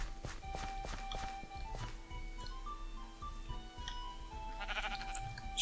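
Sheep bleating in Minecraft, several short in-game bleats mixed with a run of quick footsteps and small clicks, moderately close, over a quiet steady background hum, with no talking.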